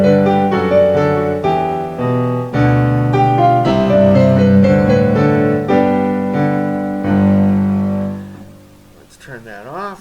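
Casio digital piano, a touchscreen-era model such as the CGP-700 or PX-560, plays chords and melody through its built-in speakers with the tuned bass port switched on, full and close, then trails off into a brief warbling tone.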